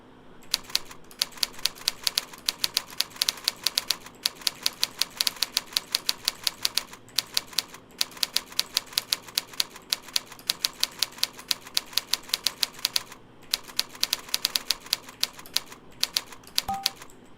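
Fast, even keystrokes on a computer keyboard during touch typing practice on the home row, a dense rapid clatter of close clicks with brief pauses, no talking.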